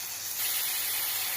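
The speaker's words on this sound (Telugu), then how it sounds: "ఎంత బాగా వేగిన తర్వాత టమాటాలు వేసుకుంటాను." Tomatoes hitting a hot frying pan give a steady, loud hiss of sizzling oil that swells slightly after the first moment and holds without a break.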